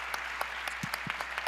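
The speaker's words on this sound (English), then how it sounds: "collectively, round of applause" A brief moment of scattered clapping from a panel discussion audience at a town-hall event on building Black wealth, with sparse individual claps standing out over a thin background.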